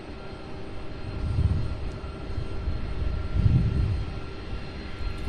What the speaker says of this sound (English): We have an Airbus A300. Just began its taxi directly here in front of us.